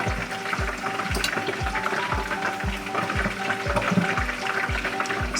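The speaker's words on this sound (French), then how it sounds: "Nous allons rajouter 2 cuillères à soupe d'huile d'olive." Olive oil hits chicken frying in a pan, giving a loud, steady sizzle with rhythmic stirring scrapes repeating about every half second throughout.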